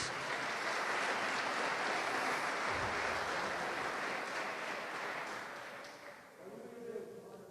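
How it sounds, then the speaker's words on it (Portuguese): Congregation in a church service giving a round of applause, a dense, steady wash of many hands clapping that holds for several seconds and then thins out toward the end. "Olha uma salva de palmas para Jesus."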